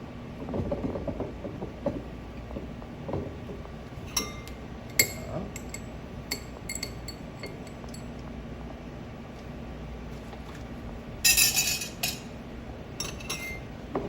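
Spoon stirring syrup and fresh mint inside a glass while mixing a mint julep, giving scattered light clinks and taps of metal on glass over a steady low background hum, with a brighter cluster of clinking near the end.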